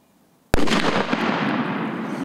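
A single sharp firecracker bang followed by a sustained crackling, hissing burst of sparks lasting under two seconds, close and loud.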